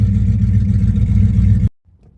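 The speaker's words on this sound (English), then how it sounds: "Oh, that's running rough. That's running real rough." The engine of a third-generation Pontiac Firebird runs rough with a loud, low, uneven idle rumble up close, then cuts out abruptly into near silence.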